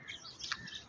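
Small birds chirping and tweeting close by outdoors during a hunting outing, a few quick bright calls over a faint background, with a brief flutter as a bird takes off.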